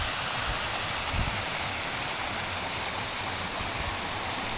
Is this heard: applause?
no